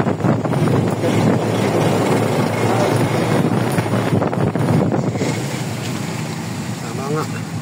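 Typhoon floodwater rushes and roars loudly and continuously, mixed with heavy wind buffeting the microphone, while voices talk beneath the noise.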